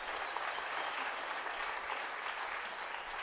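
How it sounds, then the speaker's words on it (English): Steady, dense audience applause for the rhythm section at a high school Christmas ensemble concert, an even, unbroken wash of many hands clapping, heard at a modest distance with no voices over it. "Let's give the rhythm section a round of applause."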